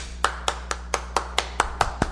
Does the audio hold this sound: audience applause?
yes